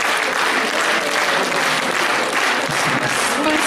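A concert audience claps steadily and loudly, a dense, even wash of applause with no pauses.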